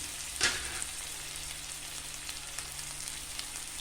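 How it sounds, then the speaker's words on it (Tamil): Onions sautéing in a pan for an Andhra-style ridge gourd curd pachadi, a steady soft sizzle with a brief clatter near the start, faint and close with no talking. "வெங்காயம் வதங்கட்டும்."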